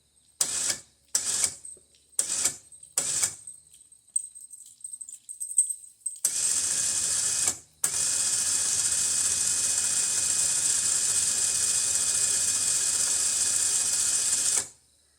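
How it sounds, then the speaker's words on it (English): An electric winch on a vehicle is worked from its controller: a few short clicking and whirring bursts, a pause, then the motor runs with a steady high whine for about eight seconds before stopping. "You press both buttons on your winch controller."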